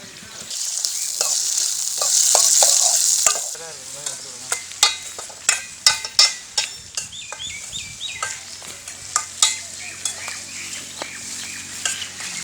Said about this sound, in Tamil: இப்போ நம்ம வந்து நம்ம கட் பண்ணி வச்சுருக்கிற தக்காளி ஆட் பண்ணிடலாம்.